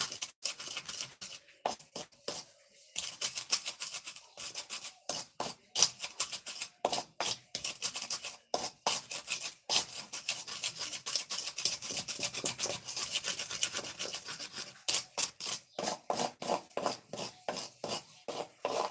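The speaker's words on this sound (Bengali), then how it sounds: "এটা পুরোপুরি পিষে গুঁড়ো করা হবে" Whole cumin seeds ground by hand into powder for a goose meat curry, heard as a long run of quick, rhythmic rasping strokes, steady and close with brief pauses between bursts.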